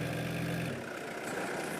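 A car in a Nepali open-world driving game crawls along a winding road, its engine giving a steady, close drone with a low rumble that holds evenly throughout and has no voices over it.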